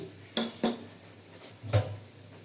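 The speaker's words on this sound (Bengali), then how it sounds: "এখানে আমি কড়াইটা বসিয়ে দিয়েছি গ্যাসটা অন করে দিচ্ছি" A few sharp metallic clanks as a wok is set down on a gas stove, two close together then one more after a pause, with faint background hum.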